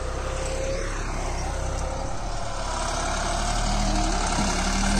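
A Deutz-Fahr Agrolux 50 tractor runs a Lemken Opal 90E rotavator through soil in an Indian field. The engine gives a steady, loud, droning hum, and the rumble holds constant with no talk.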